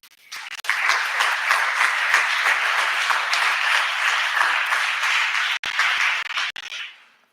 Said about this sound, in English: So big applause.